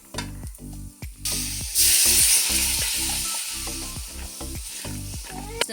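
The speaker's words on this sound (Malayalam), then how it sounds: "ഇനി നമുക്ക് ഒരൽപ്പം വെള്ളം ചേർത്ത് കൊടുക്കാം" Water poured into sizzling masala for a watermelon rind pickle sets off a sudden loud hiss and sputter that slowly eases, over a backdrop of rhythmic clanking stirring.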